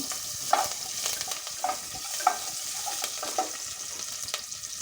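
Urad dal, cumin, green chili and curry leaves crackle in hot tempering oil, a close steady sizzle with a few sharp pops and stirring scrapes.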